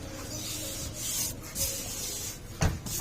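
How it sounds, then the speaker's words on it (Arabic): The glove box of a Kia Sportage with a custom leather and piano-black interior opens and closes softly, giving quiet rubbing and muffled thuds against a low background hiss. "المخدع بيقفل براحته وبيفتح براحته"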